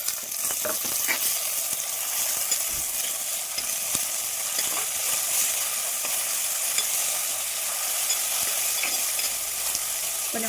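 Tomatoes and green chili fry in a pan as the base for a Kerala-style fish curry, giving a steady, loud sizzle with occasional stirring scrapes throughout, no voices.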